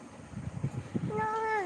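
A voice imitates a cat's meow, a single drawn-out rising-falling call at the end of the clip, preceded by a few soft murmured syllables close to the microphone.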